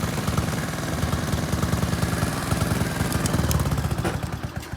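An Alfa Romeo car engine running after the starter turns it over, a steady, rough, pulsing mechanical drone, close and loud throughout, with no talking.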